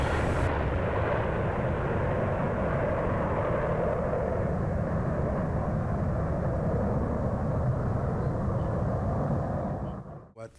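SR-71 Blackbird jet roaring loudly and steadily near the end of a runway, a continuous, powerful engine rumble that fills the whole stretch before cutting off abruptly at the end.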